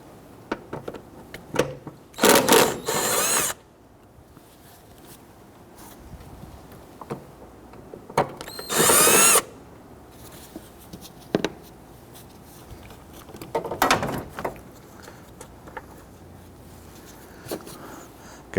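A ratchet with an extension loosening 10mm bolts on the coolant reservoir of a 2005-2021 Nissan Frontier 4.0L V6: two bursts of rapid clicking ratcheting, close, separated by quieter handling noises.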